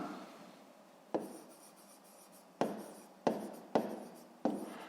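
A pen scratches in a notebook during a maths lesson, close and quiet, in several short strokes separated by brief pauses.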